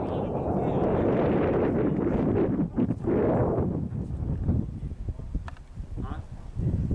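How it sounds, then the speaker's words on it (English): A strong crosswind at a model airplane field buffets the microphone in loud, gusty rumbles that rise and fall, easing briefly before surging again, with voices at times. "There's a giant crosswind."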